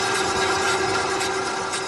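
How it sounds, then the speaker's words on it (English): A government money-printing press runs with a continuous, close mechanical whir, a steady hum threaded through dense rushing noise, without pauses. "this is the sound of the government printing money"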